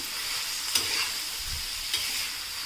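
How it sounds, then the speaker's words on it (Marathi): Steady frying sizzle of cluster beans in oil on a flat pan, with a couple of sharp stirring scrapes standing out against the constant hiss; no voices. "गवार थोडीफार नरम होईपर्यंत ती परतवून घ्यायची तेलामध्ये"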